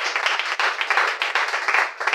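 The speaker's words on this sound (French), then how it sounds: "applaudissez pour lui" Applause from a church audience during a sermon in Brazzaville, a short burst of dense clapping that swells and dips in quick waves, fairly close and with no talk over it.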